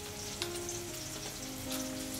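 Red tempering spices fry in hot oil for a Konkan wild-greens dish, giving a soft, steady sizzle that is fairly faint, with no voices over it.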